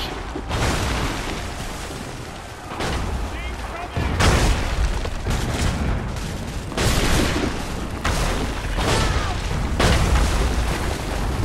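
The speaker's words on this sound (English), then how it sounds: "How am I meant to know when the shots are being fired?" Battle at Bunker Hill in Assassin's Creed 3, with repeated heavy booms and bursts of gunfire rolling through in loud waves, overlapping with a voice talking throughout.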